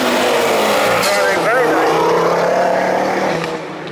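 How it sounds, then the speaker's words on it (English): A black Ferrari race car at an Alford Speedfest event roars past at speed in a loud, sustained engine sweep, and someone talks over it. "here comes the Ferrari"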